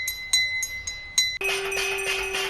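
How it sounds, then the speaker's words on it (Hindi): Someone rings a bell hung outside a house: several quick, bright strikes, then a sustained clanging ring over outdoor noise, with no voices. "केंद्रीय गृह राज्य मंत्री नित्यानंद राय ने घर के बाहर लगी घंटी को बजाया।"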